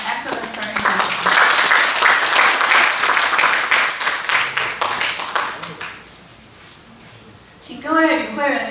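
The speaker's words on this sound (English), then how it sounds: "Please give applause again. Thanks for giving us an excellent presentation." Dense audience applause after a lecture at an international sports physiology academic conference, loud for about five seconds then fading out, followed by silence and a voice speaking at the end.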